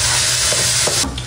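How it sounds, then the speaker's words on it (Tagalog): Garlic sautéing in a pan, a brief loud close sizzle with soft stirring scrapes. "Ako po ay magigisa na po ng ating ricado. Unahin ko na po muna itong bawang."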